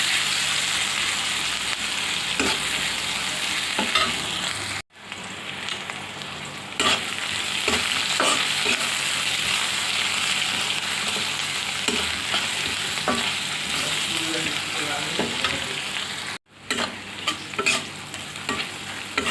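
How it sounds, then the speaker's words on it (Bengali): Chopped onions fry in a pan until soft for an egg bhuna, with a loud, continuous sizzle and frequent clattering stirs, briefly cut off twice. "এখন পেঁয়াজগুলো নরম করে ভেজে নেব।"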